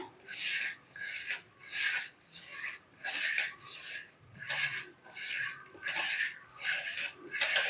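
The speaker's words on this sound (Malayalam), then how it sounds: "എന്നിട്ട് നന്നായിട്ട് ഇത് തിരുമ്മി കൂട്ടണം" Spice paste with salt and coconut oil being rubbed and mixed by hand for mackerel curry, a soft wet rhythmic rasping that swells and fades about once a second, close and quiet.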